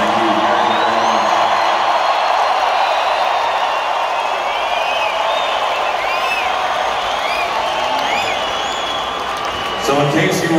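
A large crowd at a rock concert in Tampa, Florida, roaring steadily with whoops, whistles and scattered applause, loud and continuous throughout, ending in a brief burst of noise.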